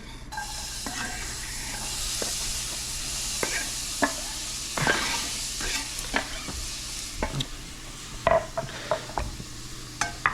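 Vegan vegetables hit a hot pan with a steady sizzle, then are stirred and scraped with a spatula, giving sharp clicks and scrapes over the continuous frying hiss for about ten seconds.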